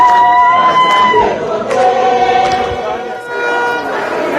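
Small but vociferous crowd of rugby supporters cheering and shouting, welcoming a junior rugby team home after a victory; loud, close voices with whoops and calls rising and falling over a few seconds.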